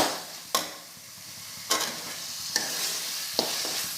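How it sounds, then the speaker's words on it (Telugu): Chicken curry frying in plenty of oil is stirred in a pan, with four sharp spoon scrapes against the pan over a soft, continuous sizzle, close and with no talking. "ఇలాగా ఆయిల్ బయట రావాలి కొంచెము, ఇట్లాగా ఇలా కలబెడతానే ఉండాలి, లేకపోతే అడుగంటేస్తుంది"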